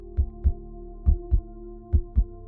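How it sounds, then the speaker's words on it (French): Recorded signal from a drifting space capsule, regular pulsing like a human heartbeat: three paired low thumps, lub-dub style, over a steady humming tone, loud and evenly spaced. "émettant des pulsations régulières, semblables à un battement de cœur humain"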